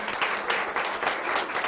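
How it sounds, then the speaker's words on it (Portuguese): A lecture audience applauds the two speakers in a dense, even burst of many hands clapping, close and steady. "Gostaríamos de concluir um aplauso pela generosidade dos nossos 2 palestrantes"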